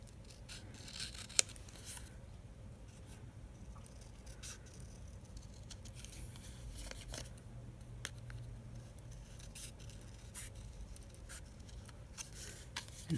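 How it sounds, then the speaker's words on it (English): Quiet snipping of scissors trimming material for a journal book hinge, small crisp cuts and light rubbing that repeat irregularly at close range. "So I'm just trimming it so that it will be a little bit smaller than the foam"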